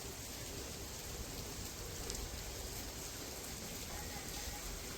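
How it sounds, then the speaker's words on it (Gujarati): Light rain falling over a village home, a soft, even hiss of drops that stays faint and constant throughout, with no voices. "ધીમો ધીમો શરૂ છે વરસાદ"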